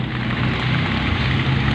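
Heavy rain pours in a dense, steady hiss close by, loud and unbroken across the whole moment, with no voices.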